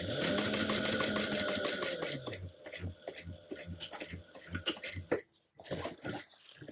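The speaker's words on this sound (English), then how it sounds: "top stitch that at 1/8 of an inch away" A sewing machine top stitches a seam on a lining panel, a steady dense whir for about two seconds that then stops, followed by scattered clicks and handling of fabric and parts.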